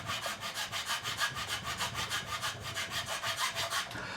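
A file saws string slots into the nut of a Harley Benton SC550 II Deluxe guitar with a quick, even back-and-forth rasp of about five strokes per second, close and quiet with no voices.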